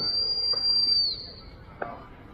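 A single long, shrill blast on a gun dog stop whistle at a country game fair, lasting about a second in an open outdoor setting, followed by a quiet pause and a faint knock.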